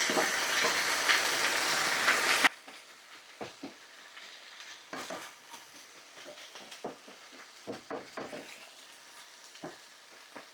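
Mushrooms fry in a pan, a loud hiss for the first seconds, then dropping to quieter, intermittent sizzling and crackles with occasional stirring sounds.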